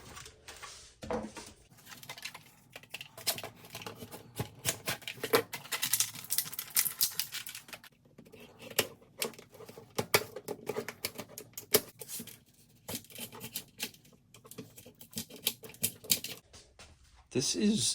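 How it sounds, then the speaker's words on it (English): Hard plastic blister packaging is pried and torn open to free new screwdrivers, producing irregular crinkling, cracking and snapping bursts close to the mic, with a person speaking intermittently. "this is the hardest plastic I've ever encountered to get something out of"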